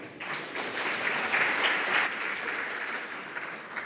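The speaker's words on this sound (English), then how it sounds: "Ladies and gentlemen, a round of applause." A forum audience breaks into applause that swells quickly to a full, dense round of clapping, holds for a couple of seconds, then tapers off into scattered claps.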